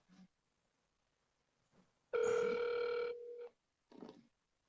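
A telephone ringing through a speakerphone, a single sustained electronic ring tone lasting about a second, with quiet pauses and faint room noise before and after.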